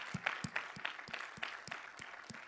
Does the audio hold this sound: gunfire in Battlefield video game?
no